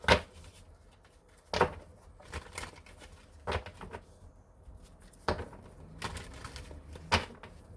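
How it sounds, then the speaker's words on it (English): A deck of cards shuffled by hand, heard as several sharp, brief riffling bursts separated by quieter pauses, close and fairly soft against a faint background. "Let's give it a real good shuffle."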